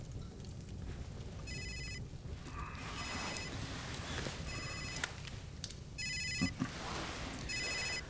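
A telephone rings in repeated electronic trills, four short bursts spaced a second or so apart, set against a quiet indoor room with faint footsteps and movement.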